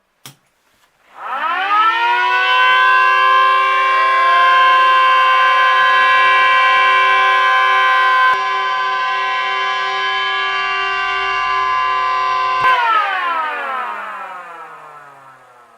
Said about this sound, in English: Alright, 2 of these Sirens sounding together, their pitches just didn't add up.